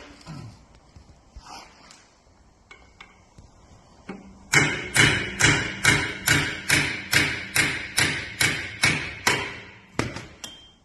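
Hammer blows knocking a seized rear axle part on an Iveco 75E15 truck, a steady run of about a dozen loud, evenly spaced metallic thumps after a few scattered taps, ending in one final strike.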